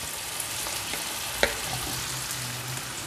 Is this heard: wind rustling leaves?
no